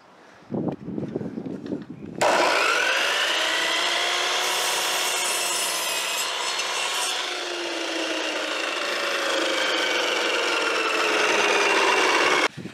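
A saw cuts wooden boards for a small greenhouse, starting with a few short strokes and then running as one long, loud, continuous buzzing cut before stopping abruptly near the end.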